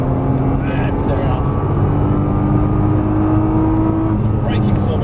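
Nissan GT-R engine droning steadily on a race track, a continuous loud mechanical roar with sustained harmonic tones that hold through the clip, no clear pause.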